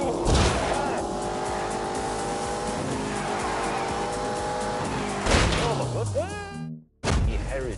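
Steady roar of a 4.4-litre twin-turbo V8 with four-wheel drive in The Grand Tour Game, droning close and loud with rising and falling harmonics, then tyres squealing and a brief cut to silence before the engine returns.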